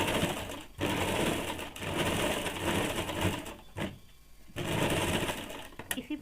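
A sewing machine runs in long steady bursts while stitching double seams on a woolen pleated baby frock, pausing briefly between runs, loud and close.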